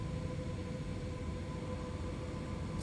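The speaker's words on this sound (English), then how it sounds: "Let's go ahead and start dropping some flaps." Airbus A321neo in the FSLabs flight simulator with flaps extending in flight: a steady, loud cabin and engine drone carrying a thin constant whine, unbroken for the whole stretch with no talking.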